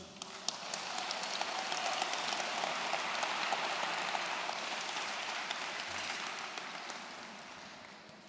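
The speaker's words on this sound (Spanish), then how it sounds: "Un aplauso a Cristo" Sustained applause from a church congregation, a dense hiss of many hands clapping at moderate, even volume that rises and fades over several seconds.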